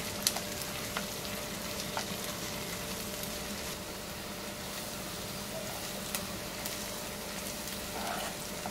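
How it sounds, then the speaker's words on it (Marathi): Ginger garlic paste sizzles quietly in a pan over browned onions while cooking a cashew paneer masala, a steady low frying hiss with a few soft stirring clicks throughout. "आता यामध्ये अद्रक लसूण पेस्ट टाकून घेऊया आणि याला हलवून घेऊया।"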